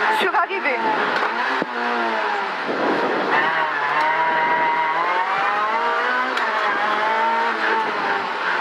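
A Renault Twingo R2 rally car on a stage of the Rallye du 14 Juillet 2017 revs hard from inside the cabin, its engine note climbing and falling through gear changes, with voices speaking over it.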